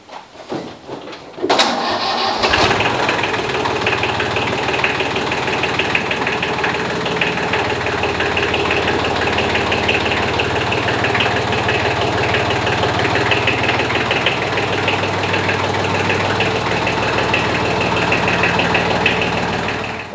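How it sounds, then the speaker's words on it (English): A tractor engine cranks briefly, catches and settles into a steady, loud diesel idle that runs on without pause. "let's get this tractor out of the way"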